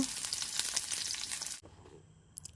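Small-cut onion and garlic hiss loudly in hot oil, a dense steady sizzle that cuts off abruptly after about a second and a half, leaving quiet room tone and a faint clink.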